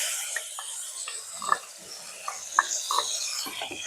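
Finely chopped medium-sized onion hits hot oil in a pan, giving a steady, bright sizzle dotted with small clicks of stirring, under a voice talking.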